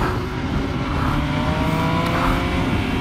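A Triumph Speed Triple RS motorcycle engine roars steadily and climbs in pitch as it accelerates hard out of a corner, close and continuous with no talking.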